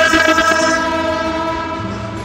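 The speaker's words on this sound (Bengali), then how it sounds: "মালগাড়ি ঢুকছে।" A goods train enters a quiet, empty railway station, sounding a loud, sustained horn over the heavy rumble of rolling wagons, close by and without speech.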